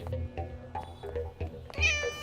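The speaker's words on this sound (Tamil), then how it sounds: "ஏதோ பூனை தட்டி விட்டுருக்கோம்." A cat meows a few times indoors, fairly faint, with a longer, higher meow near the end among light household noise.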